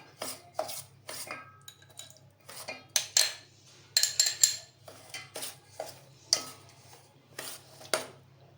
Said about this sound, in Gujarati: દહીં નાખતા જશું ને હલાવ।